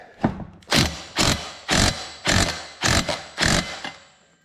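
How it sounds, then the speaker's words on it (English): An impact wrench tightens the reverse-threaded clutch on a Stihl MS251C chainsaw, giving about seven short, loud hammering bursts in a steady rhythm with brief gaps between them, close up and without talk. "I'm going to grab a socket and the impact and we'll tighten that down"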